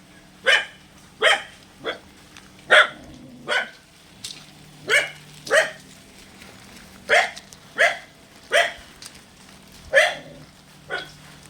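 A dog in a kennel at a rural Kerala house with a well barks repeatedly, about fourteen sharp single barks at fairly regular intervals, moderately close, over a faint steady background hum.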